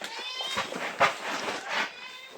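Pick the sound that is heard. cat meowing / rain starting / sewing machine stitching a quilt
cat meowing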